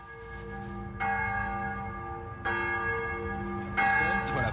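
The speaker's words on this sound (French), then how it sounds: "On va écouter ces cloches qui sont en train donc de sonner à Ajaccio en ce moment." Church bells ring out in Ajaccio, Corsica, for a papal visit: three fresh strikes at steady intervals, each leaving a long, resonant ringing hum that overlaps the next.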